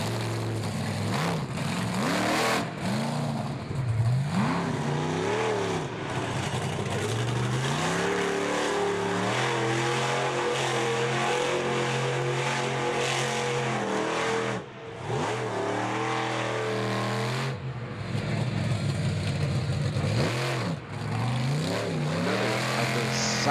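Monster truck engine during a freestyle run at an Indianapolis arena event, loud roaring revs that rise and fall repeatedly in pitch, with bursts of acceleration and short drops, close and dominant throughout the long stretch, with no talking.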